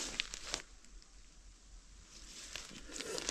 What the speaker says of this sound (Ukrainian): Дощ починається.